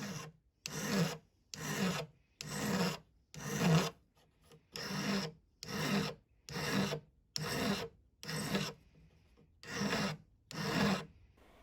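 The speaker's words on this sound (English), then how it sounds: "So hold your piece on the bench pen and use your file to just clean up and refine that" A hand file works the edge of a sawn metal piece held on a bench pin, making about twelve even rasping strokes in a steady rhythm with short pauses between them, close and clear with no talk.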